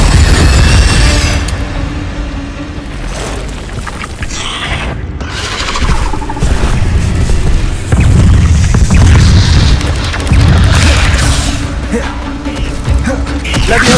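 Incendio fire spells exploding in the Hogwarts Legacy video game: loud, dense booming blasts that layer over a constant roar of battle effects across the whole stretch, with heavier bursts near the end.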